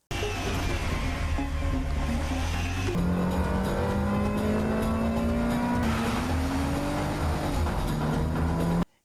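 Cars in an illegal street race roar off the line, engines revving loud and steady with pitch climbing as they accelerate, filling the whole stretch with no talk.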